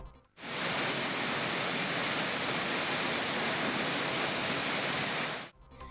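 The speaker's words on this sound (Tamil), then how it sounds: "மேற்கு தொடர்ச்சி மலைப்பகுதியில் பெய்து வரும் கனமழையால் தென்காசி குற்றாலம் அருவியில் வெள்ளம் ஆர்ப்பரித்து கொட்டுவதால்" Courtallam waterfall in Tenkasi, flooded by heavy monsoon rain in the Western Ghats, roars as a dense, constant, loud rush of pouring water that starts abruptly and cuts off near the end, with no voices.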